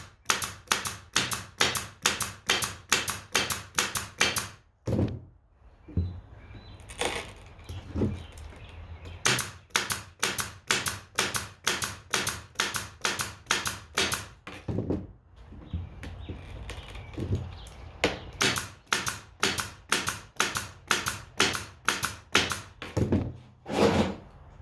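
A staple gun fires rapid, regular sharp thunks while stapling screen fabric onto a wooden screen-printing frame for skateboard graphics, in dense runs with a few brief pauses, close and loud.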